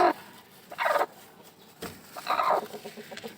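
A broody hen sits on her nest, giving a few low clucks and soft throaty calls in short separated bursts, close and fairly quiet with pauses between.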